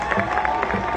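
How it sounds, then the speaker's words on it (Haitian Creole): An audience at a Haitian gathering claps and cheers in a brief burst, a close, dense crowd sound with voices mixed in. "Allez, applaudissez les choses."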